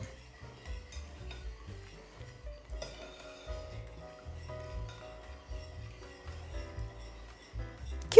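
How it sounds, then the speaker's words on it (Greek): Spoon stirring a mixture in a bowl while making Greek moustokouloura, soft scraping and light clinks against the bowl in an uneven rhythm, close and fairly quiet, with a sharper knock at the very end. "Ανακατεύω επίσης."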